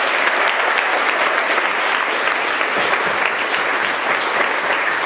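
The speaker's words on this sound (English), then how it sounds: "Let's give them a quick round of applause." A graduation audience at a boys' academy claps for the staff, producing thick, sustained applause that stays loud and even across the whole five seconds without voices on top.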